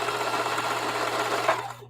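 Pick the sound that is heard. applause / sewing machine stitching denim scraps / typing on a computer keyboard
sewing machine stitching denim scraps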